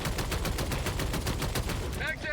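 Rapid automatic fire from a deployed sentry turret in the video game Helldivers 2, a dense, steady stream of loud shots running throughout with no pause.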